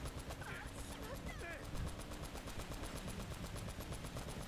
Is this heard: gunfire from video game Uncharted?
yes